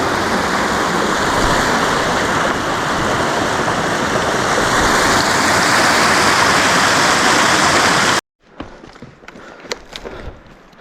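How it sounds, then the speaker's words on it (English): A creek flows close by along a trail through huckleberry oak on the way to Log Lake and the Grand National Mine, a loud steady rush that cuts off abruptly and gives way to quieter ambience with a few brief knocks. "I hear the creek pretty close nearby."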